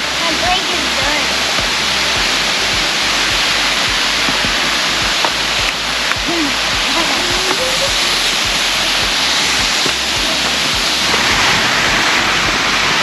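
Waterfall at DeSoto Falls in Alabama, a loud, continuous roaring rush of falling water heard up close, with faint voices talking underneath.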